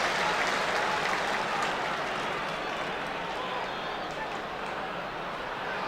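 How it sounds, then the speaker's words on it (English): Stadium crowd at the 1984 All-Ireland Senior Hurling Final applauding as a hurler leaves the field, a broad, distant roar of clapping heard under continuous commentary. "Brendan coming off the field here to a round of applause."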